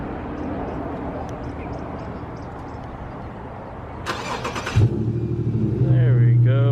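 A Compustar remote starter fires up an Infiniti Q50 after quiet background noise and faint indistinct voices: a short starter crank near the end catches into a steady, close engine idle.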